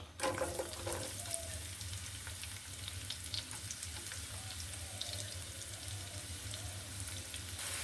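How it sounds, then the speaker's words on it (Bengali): Chopped onions fry in a pan with cinnamon, cardamom and green chilies. A soft, steady sizzle is heard close by, with a few brief clinks and stirring noises near the start. "পেঁয়াজটা আমি একটু ভালো করে বেজে নেব যেরকম বিরেস্তা ওই পর্যায়ে ভালো করে ভেজে নিলে ফ্লেভারটা ভালো আসবে"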